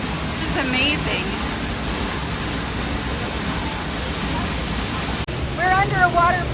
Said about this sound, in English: We're under a waterfall.